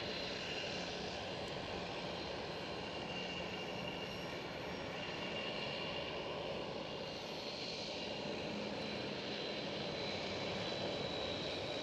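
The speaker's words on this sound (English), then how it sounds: "There goes KLM 737" A KLM Boeing 737 passing at Amsterdam Schiphol, its steady distant engine roar filling the whole stretch with no voices over it.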